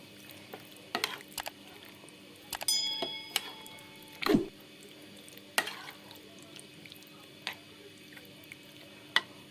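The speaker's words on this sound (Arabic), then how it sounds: "هقلب التتبيلة دي مع الفراخ كويس قوي" Chicken pieces being stirred through a marinade for homemade fajitas: sparse, close, soft wet clicks and scrapes with quiet gaps, no talking.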